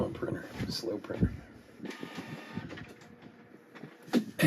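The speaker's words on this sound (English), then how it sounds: "Come on, printer. Slow printer." A slow Canon printer in a home office works through a print job, its whirring and clunking mechanical passes rising and falling close by while someone talks over it.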